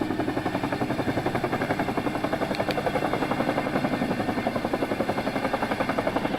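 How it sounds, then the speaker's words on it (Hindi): A Chinook helicopter flies on a rescue and supply operation in Uttarakhand, its twin rotors thudding in a steady, rapid, loud beat over a broad engine roar that holds constant throughout. "चिनूक हेलीकॉप्टर की मदद ली जा रही है"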